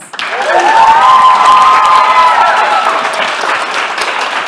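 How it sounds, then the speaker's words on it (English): Loud applause and cheering for Mr. Martin at a WE Stand Together launch event, a crowd clapping steadily with a rising whoop near the start, sustained and close. "Can we give Mr. Martin another round of applause?"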